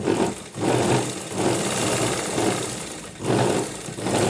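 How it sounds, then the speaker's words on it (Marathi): A sewing machine stitches the seam of a small samosa-shaped pouch bag, its motor humming loudly and close in rhythmic pulses that rise and fall about once a second, with no talking. "हे व्यवस्थित पकडून आपल्याला या ठिकाणी टिप टाकून घ्यायची आहे"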